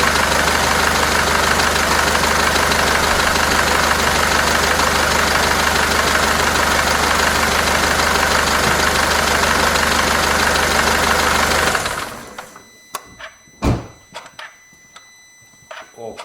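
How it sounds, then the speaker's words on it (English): A car engine idles after a radiator hose repair, a steady close hum that runs for about twelve seconds before cutting off, leaving a few faint clicks and knocks. "next step is to start my engine, that we can check those leaks."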